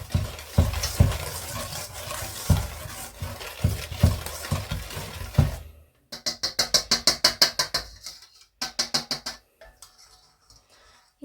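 Triple chocolate cookie dough with vanilla extract being mixed, a busy scraping and knocking bout followed by rapid rhythmic clicking bursts, close and fairly loud with no voices.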